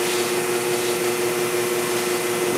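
An automatic pre-made pouch fill-seal machine opens a pouch with a steady, loud mechanical whir and hum that holds evenly throughout, with no pauses or talk.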